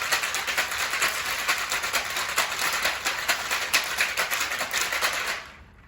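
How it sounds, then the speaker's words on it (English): Cocktail shaker being shaken hard with a Cosmopolitan of cranberry juice inside, a rapid rhythmic rattle of ice that runs continuously for several seconds, then stops abruptly near the end. "We're going to shake that up really well, making sure the ingredients are really nice and mixed."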